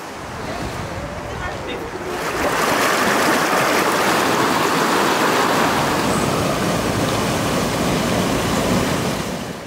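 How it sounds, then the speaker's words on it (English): Steady rushing water of a stream close by in Zion National Park, swelling louder after a couple of seconds and holding a broad, continuous wash with some wind buffeting. "just the sound of running water and walking by a stream"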